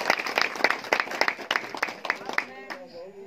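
Applause greets guests at a community stage event, a burst of sharp, fairly close claps in an uneven rhythm that fades after a couple of seconds into a voice speaking.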